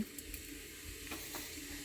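Faint, steady sizzling of cumin and mustard seeds in hot oil, a soft crackling hiss with a few light clicks, quiet and close.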